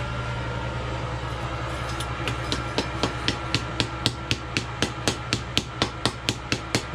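A hammer taps lightly on a horseshoe knife blade in a steady run of sharp, evenly spaced strikes, close and clear over a low background hum.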